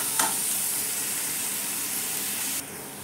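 Chopped onion dropped into hot oil in a pan, a sudden burst of close, loud frying hiss that holds steady and then eases down near the end.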